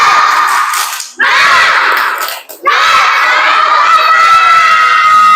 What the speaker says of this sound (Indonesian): Kita bangkitkan dengan tepuk semangat sama-sama.